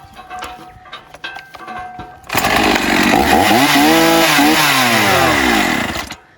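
A Husqvarna Rancher 50cc chainsaw fires up after a few quiet seconds of handling noise, then runs loud and close with its engine revving up and down before cutting off.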